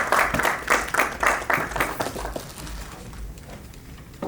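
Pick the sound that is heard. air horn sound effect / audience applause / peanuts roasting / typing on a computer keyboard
audience applause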